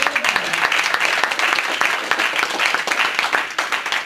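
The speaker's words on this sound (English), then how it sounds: "Clap your hands and praise his name." A church congregation claps hands together in worship, making a dense, steady burst of applause that fills the room for several seconds, loud and close, with no voice above it.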